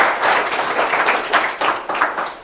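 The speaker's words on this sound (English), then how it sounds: "So guys, please, a big round of applause." A round of applause from an audience at a leadership summit in Dubai, with dense clapping at a steady level throughout and a faint voice briefly underneath.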